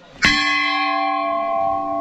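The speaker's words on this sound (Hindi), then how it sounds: "मेरे पीछे आप बहुत सारी घंटियाँ देख रहे होंगे ना" A temple bell at Golu Devta temple in Ghorakhal is struck once, loud and close, and its bright metallic tone rings on and slowly fades.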